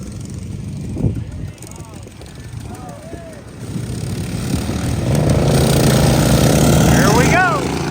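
Lawn mower engines drone during a backyard mower race, their whine rising and swelling louder toward the end, with voices over the engine noise.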